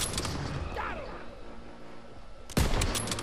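Bursts of gunfire in a Call of Duty WWII campaign battle: a dense volley at the start, a quieter stretch of distant crackle, then a sharp, loud burst near the end.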